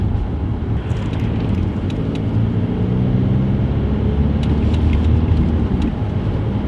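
An Audi A4 TDI diesel car drives after removal of its EGR valve, with a steady low engine drone and road rumble filling the cabin continuously and no talk.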